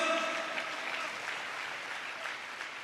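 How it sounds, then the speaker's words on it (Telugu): A church congregation clapping together in steady, dense applause at a moderate distance, continuous and even throughout with no voices standing out. "చప్పట్లు కొడుతూ స్తోత్రాలు చెప్దాం."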